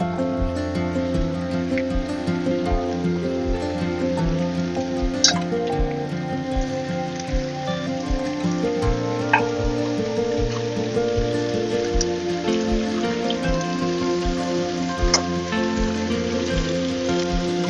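Chopped Malabar spinach stalks fry in a pan for a hilsa fish head chanokanno, sizzling in a steady, even crackle close by, with no talk.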